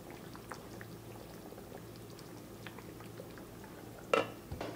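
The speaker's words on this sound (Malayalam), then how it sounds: "ഇതിപ്പം തിളച്ചിട്ടുണ്ട്" An avoli fish curry in Kerala style simmers in a pot with quiet, continuous bubbling at low level, followed by a brief clink and rustle near the end.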